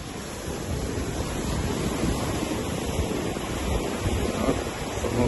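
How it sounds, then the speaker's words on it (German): Waves wash steadily onto a resort beach with a constant broadband surf roar, mixed with some wind rumble on the microphone, loud and unbroken throughout with no talk. "das ist der Strand."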